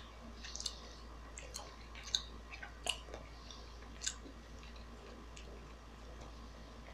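Someone chews a spicy chili-shaped gummy candy close to the microphone, with soft, sticky clicks and bites at irregular intervals over a quiet background.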